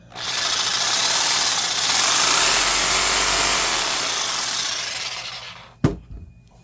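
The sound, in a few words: Makita JR series reciprocating saw running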